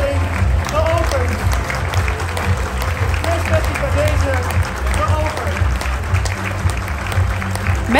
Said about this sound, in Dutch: applaus voor het moment als de hand is gegeven